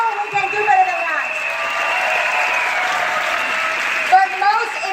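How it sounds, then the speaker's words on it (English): An audience at a large seminar event in Kuala Lumpur claps loudly and steadily, filling the room for several seconds while a speaker talks over the applause. "Come on, a big round of applause, please."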